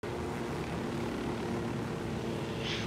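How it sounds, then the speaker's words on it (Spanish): A helicopter flies in the Ghost Recon video game, producing a steady, dense rotor and engine drone that holds evenly throughout, with no talking over it. "Como veis ya hemos pillado el helicóptero, volamos."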